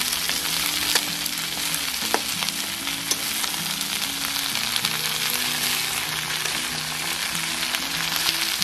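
Leafy greens fry in a pan for a traditional Medinipur shaker chanchra, sizzling loudly and steadily while a spatula stirs and scrapes with occasional clinks. No voices are heard.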